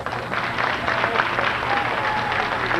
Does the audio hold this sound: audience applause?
yes